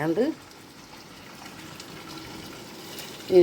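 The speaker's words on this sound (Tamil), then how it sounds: "வந்து தண்ணி ஊற்றுறேன்." Water poured into a pan of reddened fried tomato and onion while making wheat rava upma, a soft steady pouring hiss running for a few seconds between brief louder sounds at the start and end.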